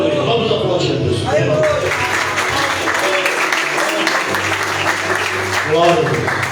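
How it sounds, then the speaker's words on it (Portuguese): A church congregation applauds during a service, steady crowd clapping with a voice speaking over it and a low sustained instrument tone underneath. "Vamos aplaudir a Deus."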